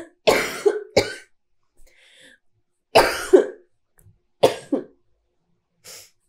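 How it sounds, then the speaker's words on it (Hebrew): Several sharp coughs and throat-clearing bursts come in uneven clusters, close and fairly loud, with short silences between them and a fainter final cough. "שיעול"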